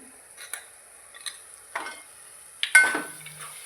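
A spoon stirs turmeric into mushroom curry in a pan over low heat, with a few separate scrapes and clinks and faint sizzling between them.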